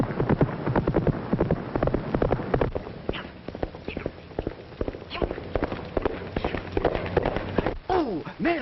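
A horse gallops in an old classic film, its hooves drumming in quick uneven beats under loud overlapping voices and shouts.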